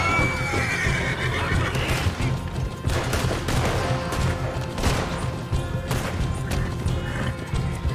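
Horse neighs and whinnies in Red Dead Redemption 2, mixed into a busy, loud game soundscape with clattering mechanical noise and crashes throughout.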